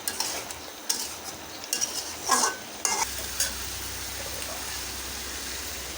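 Okra and small eggplant tipped and stirred into a pan, a few scraping and clattering bursts followed by a steady soft sizzle with a low hum.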